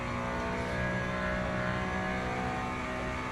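Several race car engines roar steadily in the sim racing game Le Mans Ultimate, LMGT3 cars at Portimao, a dense, loud, continuous drone of layered engine tones from nearby cars, with no talk over it.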